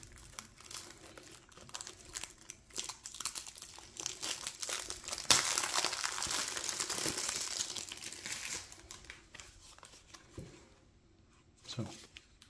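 Cardboard and plastic wrap crinkling and tearing as a Lord of the Rings trading card game box for the Return of the King set is ripped open, busy rustling building to a loud tear midway, then quieter handling.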